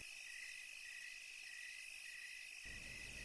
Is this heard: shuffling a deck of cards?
no